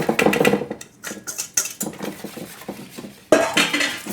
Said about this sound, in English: So I'm going to add this in and whisk that in.